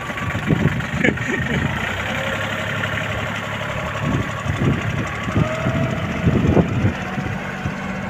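Old Japanese Kubota GL-280 tractor, sold with a front loader bucket, idles with a steady low engine rumble throughout, rising in a few brief revving bursts, while people talk nearby.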